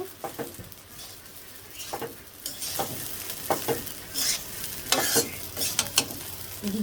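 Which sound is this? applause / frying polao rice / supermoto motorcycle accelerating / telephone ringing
frying polao rice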